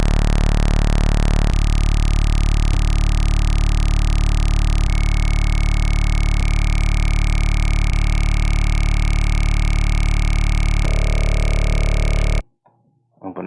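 A bright, buzzy synthesizer saw wave drones loudly and continuously, its tone shifting in steps, then cuts off abruptly near the end.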